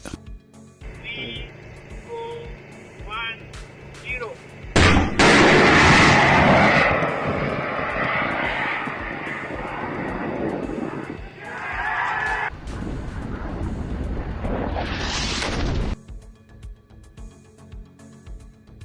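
A DRDO man-portable anti-tank guided missile goes off in a test firing: a sudden loud blast, then a powerful roaring rush that lasts about ten seconds and cuts away. Fainter tones come before it.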